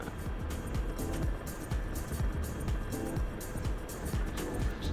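Aircraft engine in the flight simulator DCS World, a steady broadband drone with rhythmic low pulsing that runs continuously under the whole stretch.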